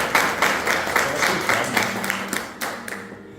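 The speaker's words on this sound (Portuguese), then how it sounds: "gostaria que a igreja o saudasse com uma salva de palmas" A church congregation bursts into applause, many hands clapping in a lively, roughly rhythmic patter that stays loud and close before thinning out at the end.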